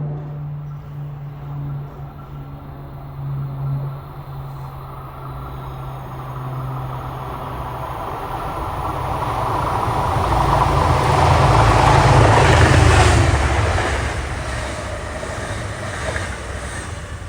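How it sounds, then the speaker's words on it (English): MBTA commuter rail train 955 from Boston to Stoughton approaches and passes, a low engine drone building into a loud rolling rumble of wheels on track at its peak, then easing off as it goes by. "here comes train 955 from Boston to Stoughton"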